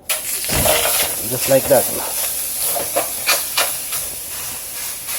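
Salt and garlic drop into a hot skillet and a strong hiss of sizzle and steam rises, steady with small bursts of crackle, while a person speaks briefly over it.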